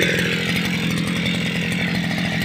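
A Forte MKB-25LUX walk-behind cultivator engine running after a start, a loud close buzzing small-engine drone that holds steady and rattles throughout without pause.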